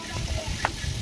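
Rupchanda fish, coated in turmeric, chili and salt, fries in hot oil with a steady close sizzle and a few small pops, no talk over it.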